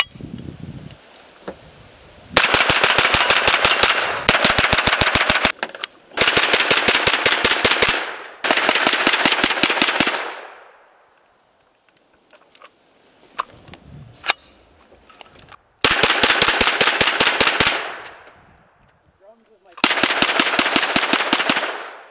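A Crusader 9 9mm pistol caliber rifle fires in rapid, sustained bursts outdoors, loud and close, with several strings of quick shots separated by short pauses.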